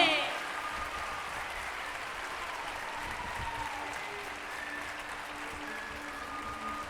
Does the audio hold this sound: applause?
yes